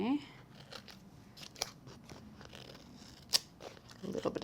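Scissors cutting gilded vellum in a craft project, soft crisp snips under quiet talk, with a couple of sharper cuts standing out.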